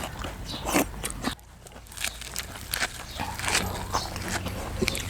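Crunchy lotus leaf being bitten and chewed up close, with crisp irregular crackles and crunches in quick succession over a soft breezy outdoor background.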